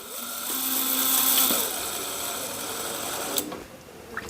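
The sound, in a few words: drilling holes in metal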